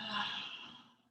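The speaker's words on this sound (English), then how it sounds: "Big, heavy breath." A big, heavy exhaled breath during a yoga session, one long breathy whoosh that fades away, close and fairly soft.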